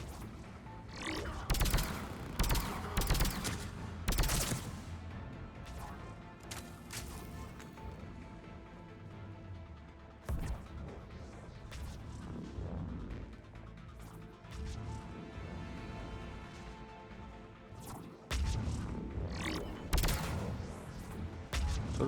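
Heavy gunfire and crashing impacts in a Mass Effect 3 firefight, loud, dense bursts of shots and smashes running almost without pause, close and intense.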